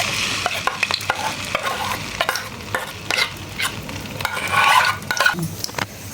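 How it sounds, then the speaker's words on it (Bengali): Beaten egg poured into hot white oil in a pan, sizzling steadily up close, with scattered spoon and pan clicks and a swell of crackling near the end. "তেলটা গরম হয়ে গেছে, এখানে আমি যে ডিমটা গুলে রেখেছিলাম ওইটার মধ্যে দিয়ে দিচ্ছি।"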